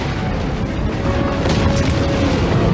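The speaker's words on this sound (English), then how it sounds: "Bomb! Get down!" A bomb explodes in Broken Sword 3: The Sleeping Dragon in Egypt, giving a loud, sustained roaring blast with dense low rumble that fills the whole stretch without pause.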